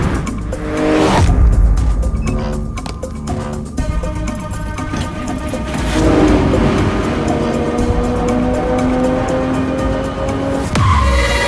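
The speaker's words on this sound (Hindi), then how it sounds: "गाड़ी पहुंच रही है।" A car arrives at speed with loud, prolonged tire squeal and engine roar sweeping across, then a sharp screech and skid near the end, with no talking.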